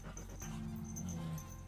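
A dog whimpers faintly at close range, a thin high whine that wavers briefly and then trails off over a soft, steady background hum with no talking.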